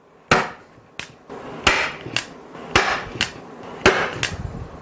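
A DeWalt hand staple gun fires staples into interior molding, with about eight sharp percussive snaps spaced at irregular intervals, each one loud, close and dry, and no voices.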